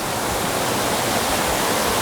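A waterfall fed by a big lake above, in a mystical valley in Sichuan, rushes in a dense, steady, loud roar with no pauses and no voices.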